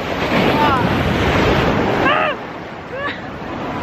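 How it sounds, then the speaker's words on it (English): Large sea waves crash and roar onto the rocky shore at Monterosso al Mare, Italy. Wind buffets the microphone throughout, and brief faint voices come through before the surge drops off slightly. "The waves are huge!"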